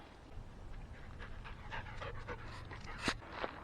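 A dog pants steadily close by, quick rhythmic breaths with a few louder huffs near the end, outdoors with low background rumble.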